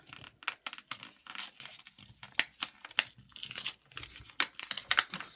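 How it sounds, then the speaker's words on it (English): Paper from a greeting card rips and crinkles close up in irregular bursts of tearing and rustling while a cookie baking journal is being made, with no talk. "It's ripping."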